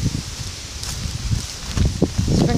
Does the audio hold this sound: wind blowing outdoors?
yes